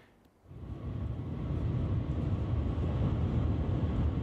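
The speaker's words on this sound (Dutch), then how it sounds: "dit is de Maglev-trein, een magnetische levitatietrein in Shanghai" Shanghai Maglev magnetic levitation train, a broad steady rushing roar that swells in quickly after a brief quiet start and holds loud and close without any voices.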